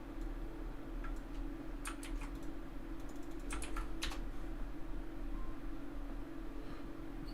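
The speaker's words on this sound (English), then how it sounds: "Am I not typing something right here?" Computer keyboard keys tap in quick irregular bursts over a steady low hum, close and moderately loud, with short pauses between clusters of keystrokes.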